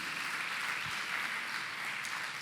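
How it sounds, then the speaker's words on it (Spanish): Church congregation applauding in a Spanish-language service, a quiet, distant, steady wash of clapping that holds evenly throughout with no voices over it. "¿Cuántos celebran con un fuerte aplauso ese perdón?"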